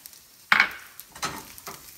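Garlic hits a hot pan at medium-high heat with a sudden sizzling burst, then settles into softer crackling and frying with a few light stirring scrapes.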